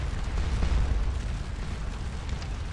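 Artillery fire in the Napoleonic battle game Scourge of War Waterloo, heard as a continuous low rumbling roar of cannon booms, loud and sustained across the whole stretch with no voices.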